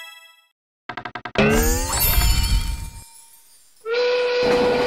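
Train departure sound from the Thai board video game เกมเศรษฐี 2020: a quick burst of clanks, then a loud sustained rush of whistling, horn-like tones that fades, and a second steady tonal blast afterward, with no talk.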